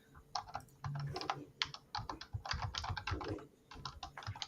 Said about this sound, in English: It's not me typing.